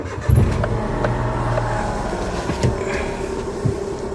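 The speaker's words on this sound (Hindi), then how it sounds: "ये गाड़ी स्टार्ट हो गई" A car engine starts up inside the vehicle with the gate left open, a brief cranking burst followed by a steady low idle rumble, close and fairly loud.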